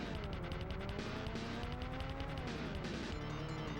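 Racing cars from the SNES game F1 Pole Position, a steady buzzing engine drone with shifting pitch and faint tire squeal, loud and continuous with no talking.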